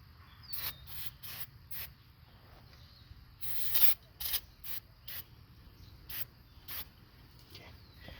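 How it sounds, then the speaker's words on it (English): Brake cleaner sprays onto a dusty, powder-caked bearing hub of a 2008 Chrysler Sebring in repeated short hissing bursts, some longer than others, close and fairly loud, with no talk. "just gonna rinse with a little brake clean because we got a lot of stuff down in there."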